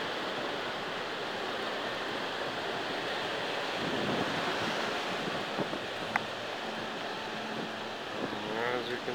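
Ocean waves wash onto a beach in a steady broadband surf roar with wind buffeting the microphone, the wash swelling around midway and occasional faint voices underneath.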